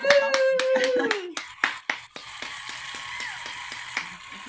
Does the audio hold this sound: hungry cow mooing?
no